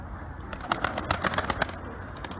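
Boz duman pigeons, a Turkish breed, heard up close as a cluster of soft bird sounds and wing flutters in quick bursts, with a quiet hiss in the background.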